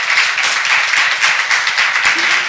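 Congregation at a church seminar claps steadily and briskly, a dense close wash of many hands sustained throughout with little else over it.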